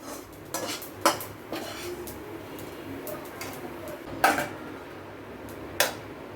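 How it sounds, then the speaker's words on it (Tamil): Grated coconut being dry-roasted in a pan, with a utensil stirring and scraping it and a few sharp metallic clinks against the pan, close by, over faint background music. "அந்த தேங்காய் கருகிராமல் நல்லா ஒரு கொப்பர் அளவுக்கு ட்ரை ஆகி வரணும் வறுபடணும்"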